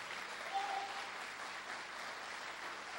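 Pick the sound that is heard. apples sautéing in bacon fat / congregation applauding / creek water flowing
congregation applauding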